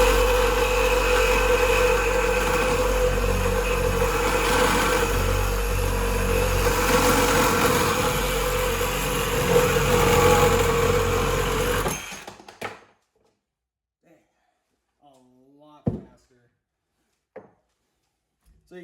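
A Dewalt DCS369 one-handed cordless reciprocating saw cutting square tubing makes a loud, continuous buzzing drone for about twelve seconds, then stops abruptly, leaving near silence broken by brief talk.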